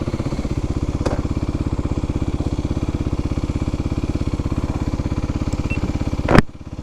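Kawasaki KLX300 Supermoto motorcycle engine idling close by, a steady rapid single-cylinder thump that holds even throughout, broken by a brief sharp clack near the end.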